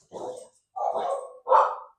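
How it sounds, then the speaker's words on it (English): Dogs barking at home during dinner preparation, three loud close barks spaced roughly evenly over two seconds, with nothing else heard around them. "while my dogs bark."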